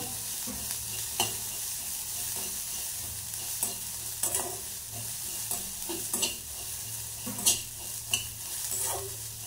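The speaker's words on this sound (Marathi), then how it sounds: "आता मी याला अजून फ्राय करून घेते" Food frying and being stirred in a pan in a home kitchen, a steady sizzle with irregular scraping knocks of the spoon throughout, no voices.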